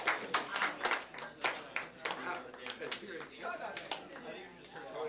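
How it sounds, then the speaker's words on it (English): Classroom applause at the end of a math lesson: scattered clapping from students in a room, uneven and fairly close, with chatter and voices running through it. "So, yes, you deserve a round of applause."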